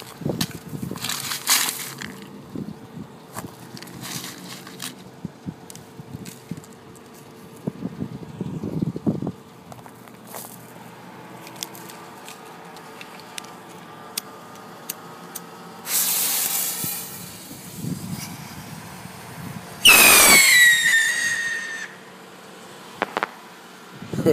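A triple-bang firework rocket is lit on the ground near a parked car. Sparse outdoor noises lead to a loud hissing launch, then a sharp, booming burst a few seconds later.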